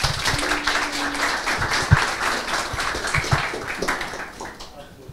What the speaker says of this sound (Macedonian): Еден голем аплауз и да почнем.